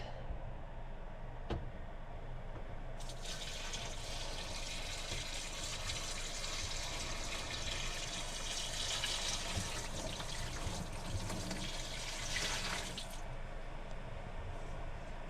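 Water pours steadily into a portable camper washing machine over laundry, a continuous close splashing rush that swells for about ten seconds, with no voices.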